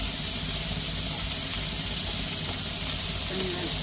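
Sliced onions and green chillies fry in hot oil with a steady, fairly loud sizzle and hiss that holds evenly throughout, heard close up.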